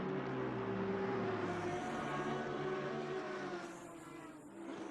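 Race cars lapping the Hungaroring circuit in the racing game Assetto Corsa Competizione, a loud steady engine drone with layered revving tones that holds throughout and dips slightly near the end.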